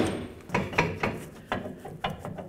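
Ratcheting clicks from a wrench tightening the pinion nut on the yoke of a 1994–2004 Chevy S-10 rear axle during pinion seal replacement, several short bursts of close, moderately loud metallic ratchet strokes.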